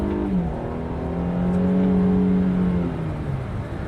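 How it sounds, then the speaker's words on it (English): Exhaust note of a 2020 Infiniti Q60 with a 3.0-litre twin-turbo V6 and seven-speed automatic, a smooth tonal drone that swells slightly mid-way, then eases back, steady and fairly prominent. "You do hear the engine exhaust note, which isn't necessarily unpleasant."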